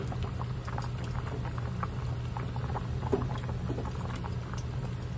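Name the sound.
pork leg meat bubbling as it boils in pot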